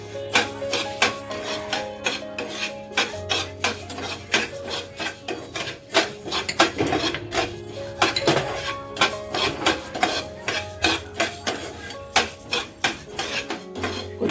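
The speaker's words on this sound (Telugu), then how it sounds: "ధనియాలు తీసుకొని ఇవి బాగా ఫ్రై చేసుకోవాలి." Coriander seeds being dry-fried in a pan over medium flame: a continuous close rattling and scraping as the seeds are stirred, in quick uneven rhythmic bursts, with no talk.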